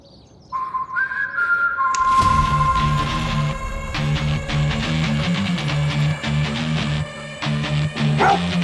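A dog barks repeatedly in a tense crime-drama scene, the barks loud and close, coming after a rising whistle-like tone and carried over a swelling dramatic music bed.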